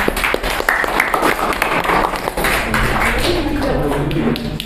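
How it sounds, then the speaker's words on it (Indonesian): An audience in a classroom applauding a presenting group, a loose burst of hand claps with uneven rhythm, fairly close and loud, with some talking mixed underneath. "Oke, beri aplaus teman-teman."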